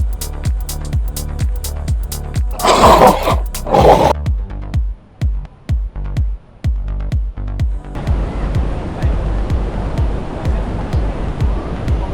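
Athirappilly waterfall in Kerala roars as a dense, steady rush of falling water that swells in near the end, following a run of rhythmic low thumps.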